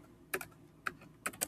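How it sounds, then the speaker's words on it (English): Keys tapped on a computer keyboard while a password is typed, several quick clustered clicks in short bursts with brief pauses between, close and fairly quiet, no voices. "So here I am typing in my password."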